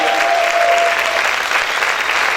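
A church congregation applauds loudly in a steady, dense wash of clapping, with a brief tonal whistle or voice line early on and no clear speech.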